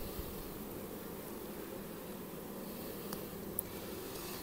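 Honeybees hum steadily inside an opened hive during an inspection, a dense, even drone close by and alone, with a faint tap or two.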